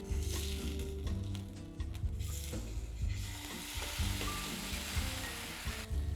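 Loud, steady sizzling of beef on a hot grill, crackling and spitting continuously, with occasional clinks and scraping close by.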